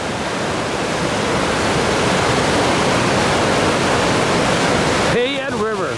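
Whitewater rapids on the Payette River in Idaho roar as a loud, continuous broadband rush close by, with a voice exclaiming near the end.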